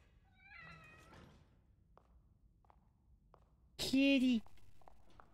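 A cat meows within a horror game, a drawn-out cry near the start and a louder, sharper meow later, with soft thuds and taps between them.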